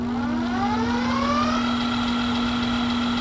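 Electric motor of a folding e-bike spinning its raised rear wheel at full throttle, a steady electric whine climbing in pitch over about a second and a half and then holding level, with a constant low hum underneath; no talking.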